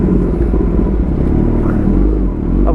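A Kawasaki ZX10R motorcycle riding through narrow streets, its engine a steady, loud, close rumble with no pauses across the whole stretch.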